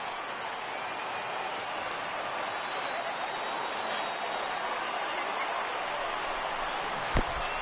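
A large stadium crowd cheers at a St. Louis Cardinals at Atlanta Braves baseball game in MLB The Show 18, a dense, steady roar that holds throughout with a sharp crack near the end.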